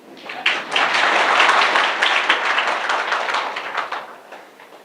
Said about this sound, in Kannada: ಸರಿಯಾಗಿ ಚಪ್ಪಾಳೆ ಹೊಡೀರಿ.